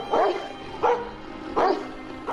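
Dogs bark in the yard of a family house, four sharp, evenly spaced barks sounding fairly close and clear against a quiet background.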